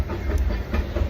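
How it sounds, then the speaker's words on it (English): The Disneyland Railroad train passes close by at the theme park, a loud steady rumble with rhythmic clacking and a faint hiss, with no talking over it. "Disneyland Railroad going by."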